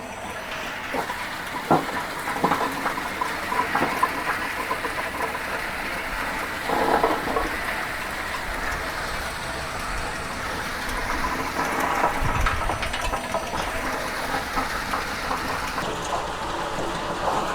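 A horizontal walnut peeling machine churns at raised speed with a dense, steady rushing and rattling like heavy rain mixed with motor hum, occasional thumps rising over the continuous noise.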